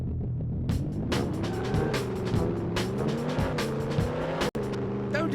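Engine of a car in the PS1 game 007 Racing drones and shifts pitch continuously, with tire squeals and a sharp crash near the end, loud and close.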